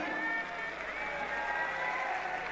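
A large crowd at a political rally in Dewas, Madhya Pradesh, claps and cheers in a dense, steady wash of applause that holds for the whole stretch without letting up.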